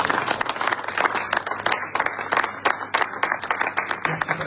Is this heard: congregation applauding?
yes